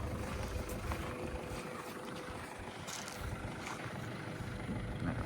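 Nissan Urvan 3.0 turbo intercooler diesel van engine idling nearby, a steady low rumbling drone with faint rattles on top, no voices.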